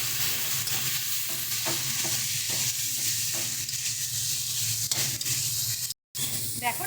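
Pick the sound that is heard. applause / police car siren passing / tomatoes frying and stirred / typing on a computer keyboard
tomatoes frying and stirred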